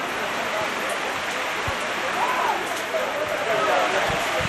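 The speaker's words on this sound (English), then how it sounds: "The field taking a battering from the rain, holding up so far." Heavy rain pours steadily onto a football pitch during a live match between Mount Pleasant FA and Arnett Gardens FC. A constant loud hiss fills the air, with a commentator talking over it.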